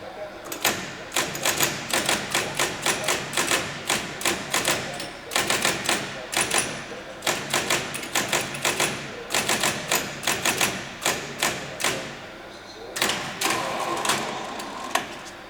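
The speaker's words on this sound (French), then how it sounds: "Je vais perforer une carte." A keypunch machine at a punched-card data-entry workshop punching a card: rapid bursts of sharp mechanical clacks in quick rhythmic runs, separated by brief pauses, loud and close.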